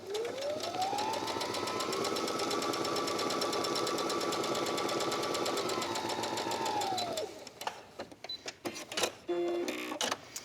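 Electric sewing machine stitching a quilted fabric tablet case, a loud motor whir rising and holding steady for several seconds with rapid needle ticking, then slowing into short bursts and clicks.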